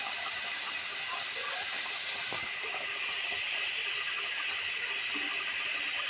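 Ghee hits a hot pan of paneer and sets off a loud, steady sizzling hiss that fills the whole moment, shifting briefly partway through, with no voices over it.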